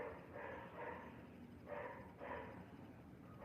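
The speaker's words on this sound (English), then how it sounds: "can you guys hear that dog?" A dog barks somewhere off at a distance, four muffled, faint barks in two pairs over steady background noise.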